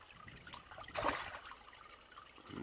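Koi pond bubblers and a shower running on a timer give a steady faint trickle and splash of water, swelling briefly to a louder gush midway.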